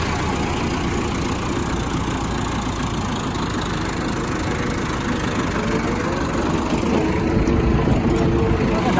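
A new 85 hp 4x4 tractor engine idles with a steady low rumble from start to finish, loud and close throughout, with faint voices mixed into the background.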